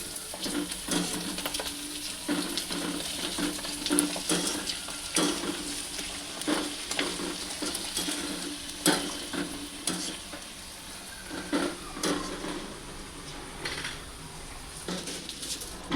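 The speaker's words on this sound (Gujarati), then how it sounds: "અત્યારે સૌ પ્રથમ પહેલાં ભૂંગળા તળી નાખું" Pipe-shaped bhungla snack pellets frying in hot oil for a puffed-rice chevda namkeen mix, a busy crackling sizzle with repeated stirring scrapes and bubbling bursts throughout, close and moderately loud.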